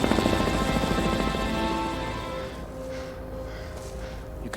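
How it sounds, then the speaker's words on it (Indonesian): A helicopter drones steadily with a dense, rumbling rotor hum that holds loud throughout and eases slightly toward the end. "terdengar suara dengungan helikopter"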